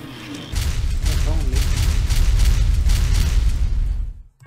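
Loud explosions and bursts of gunfire from the film The Fifth Element rumble together in a dense, booming barrage that fades out abruptly at the end.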